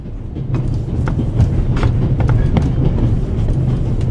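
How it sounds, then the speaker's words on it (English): Loud, continuous rumble and rhythmic clatter of a moving train in the Orient Express carriage in the video game The Raven, wheels knocking steadily with metallic rattles throughout. "The noise on this train is driving me crazy."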